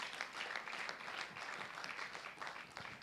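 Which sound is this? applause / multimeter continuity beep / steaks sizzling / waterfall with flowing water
applause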